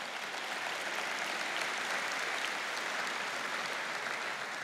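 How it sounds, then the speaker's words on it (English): Church congregation applauding during a sermon, a dense, steady wash of many hands clapping at once that holds at an even level throughout, with no voices standing out. "Go ahead and clap."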